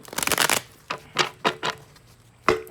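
Tarot cards shuffled by hand: a dense riffle burst at the start, then several separate crisp card slaps and flicks spaced about a second apart, close and fairly loud with no talk.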